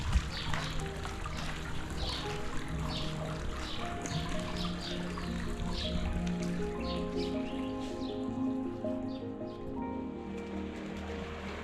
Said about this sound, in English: It sounds beautiful with the water here.